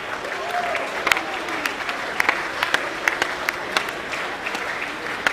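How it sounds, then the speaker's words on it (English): Audience applause at a school academic awards assembly, a steady wash of clapping from a crowd at moderate level with scattered sharper claps standing out, and a voice briefly audible underneath. "Give them a clap, everybody"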